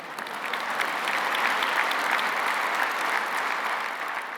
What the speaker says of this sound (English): that is an applause line.